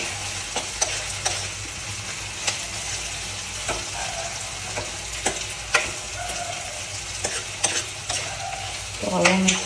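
Two large onions and half a kilo of okra frying in a pan, a dense continuous sizzle broken by frequent clattering stirs of a utensil, with a louder scrape near the end.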